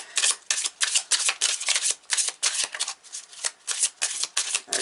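A deck of love tarot cards being shuffled, a rapid series of close, crisp riffling bursts and flicks repeating steadily with brief gaps, alone without talk.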